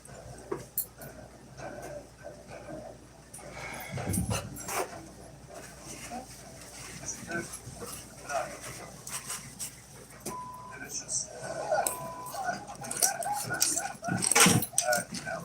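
A dog whimpers and pants close by indoors, with scattered thumps, rustling and a jangle of keys, while voices murmur faintly in the background.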